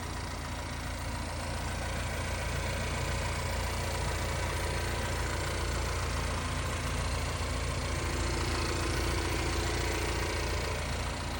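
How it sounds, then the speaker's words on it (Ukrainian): A Buick Regal TourX engine idles steadily with a low, even rumble and faint mechanical ticking, no voices, constant level throughout. "Двигун працює як часи."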